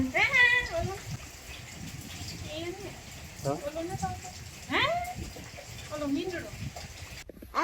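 A cat meows several times in drawn-out, wavering cries, close by, with faint background noise and a brief clatter at the end.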